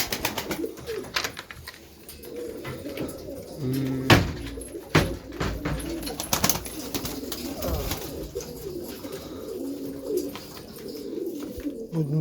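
Tumbler pigeons coo nearby while sharp bursts of wing flapping break in now and then as they take off.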